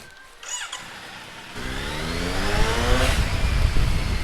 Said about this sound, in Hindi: Finally get to ride my bike.